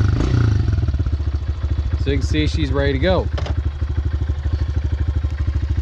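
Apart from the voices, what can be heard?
Honda CRF 125F dirt bike engine running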